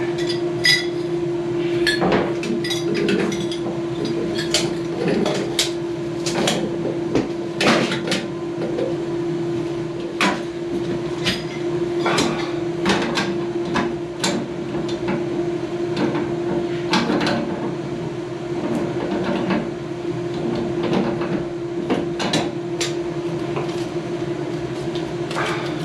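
Metal clinks and taps of a wrench on copper water heater fittings being tightened, repeated irregular sharp hits over a steady low hum, with no talking.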